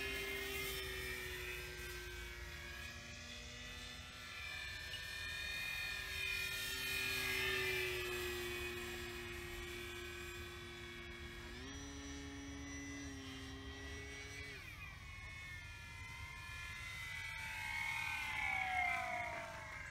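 A Flex Innovations Mamba 10 RC model airplane hovers with its flight controller removed. The electric motor gives a steady whining drone that rises and falls in pitch, faint and somewhat distant, with no talking.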